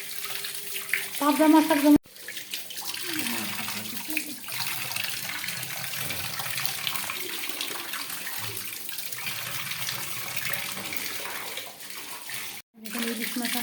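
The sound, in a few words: water running while washing fish at market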